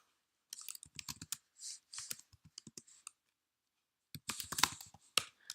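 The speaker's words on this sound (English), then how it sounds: "Now, let's type up the PHP do while loop." Quick bursts of typing on a computer keyboard while entering PHP code, clustered key clicks with a pause in the middle, close and clear with no voice.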